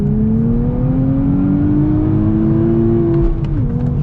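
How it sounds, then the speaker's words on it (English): A 2023 Nissan Z's engine winds up smoothly toward redline in one long, loud, rising pull, then the note drops suddenly near the end as the revs fall away. "Like it wants you to rev it out."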